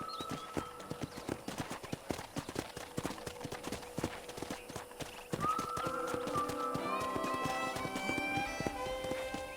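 Horse hooves clip-clopping along in Red Dead Redemption, with a steady trotting rhythm, a horse whinnying, and music rising underneath.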